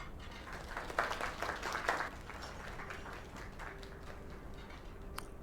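Scattered clapping from a small group, strongest in the first two seconds, then thinning out against a quiet room hum.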